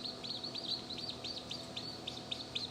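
Baby chicks hatched from eggs laid by zoo chickens peep in quick, high, repeated chirps, a steady run of short calls at moderate distance over faint background hiss.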